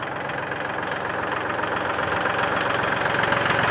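A Kubota L3608 tractor from 2011, fitted with a front dozer blade and mower, idling with a steady, even diesel rumble heard up close, the knocking engine tone holding constant throughout with no voices.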